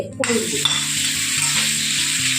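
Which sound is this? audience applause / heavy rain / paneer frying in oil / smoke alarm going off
paneer frying in oil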